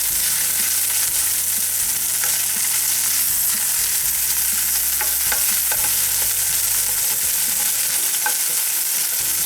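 Onions and meat stir-fried in a de Buyer carbon steel pan give a loud, steady sizzle, with scraping and clinking from stirring scattered across it and no one talking.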